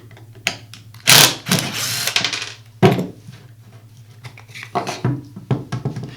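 A screwdriver works loose the single screw holding the rear housing of a Makita grinder, heard as close, scattered clicks, scrapes and a few sharp rattling bursts of metal and plastic parts being handled, with no talk.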